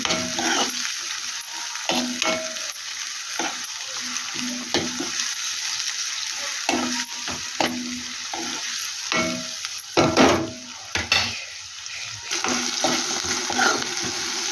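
Tomato and amaranth leaves fry in a pan with a continuous close sizzle, broken by repeated scraping strokes of a spoon as the mixture is stirred.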